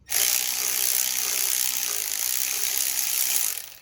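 Rapid ratchet clicking with a swivel fitted, loosening the thermostat housing bolt on a 2005 Ford Mustang 4.0, one fast continuous burst close up, cutting off at the end.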